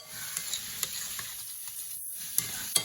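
Vegetable kebab mixture is stirred in a sizzling pan, giving a soft, steady frying hiss with a few light utensil taps scattered through, close and quiet with no talking.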